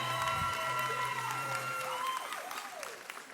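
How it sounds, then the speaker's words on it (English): Audience applause at a school awards celebration, a steady wash of clapping with a faint cheer, over a sustained tonal hum and sweeping electronic tones that fade as the clapping thins. "Let's give them another great big round of applause."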